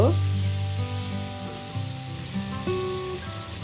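Long potato slices frying in hot oil with black cumin (kalonji) in a pan, a steady close sizzle that holds throughout the short stretch.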